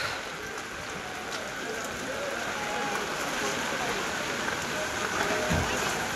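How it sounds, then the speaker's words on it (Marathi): Heavy rain pours over Devgad market in Konkan, a dense and continuous loud hiss of water beating on surfaces, with faint background sounds beneath it. "पावसाने एकदम जोरदार हजेरी लावली आहे"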